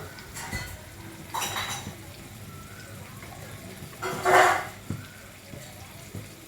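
A spoon stirs ground spice powder into tomato cooking in a pan for puffed-rice uggani, giving a few scattered metallic clinks and scrapes against the pan, with a dog barking briefly in the background.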